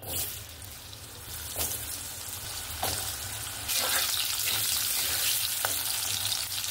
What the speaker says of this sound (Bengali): তেলটা দিয়ে আমি আলুগুলো প্রথমে ভেজে নেব।